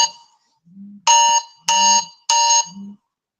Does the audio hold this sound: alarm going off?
yes